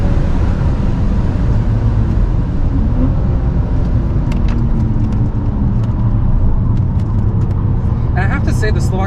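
A BMW 330ci E46 runs a cool-down lap at Slovakia Ring, its engine a steady low in-cabin drone with tire and road rumble underneath, while people talk over it.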